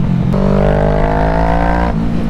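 A deep, throaty motorcycle engine drones steadily and loud up close, its pitch rising slightly as it pulls, then dropping as the throttle eases.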